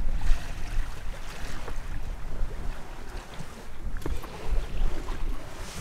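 A sailboat glides under sail with the engine off, giving soft water swish and wind buffeting on the microphone, with occasional light knocks over steady low rushing noise.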